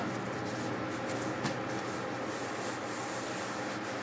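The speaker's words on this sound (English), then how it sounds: "So I'm going to cut this into strips, and hopefully it'll be enough." Scissors cut brown fabric into strips, a soft continuous rubbing and snipping rasp with faint brushing hiss, heard close and alone.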